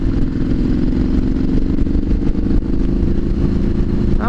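A Triumph SS900 motorcycle is ridden on the road, its engine giving a loud, steady, throbbing drone with a constant rumble and rushing wind noise throughout.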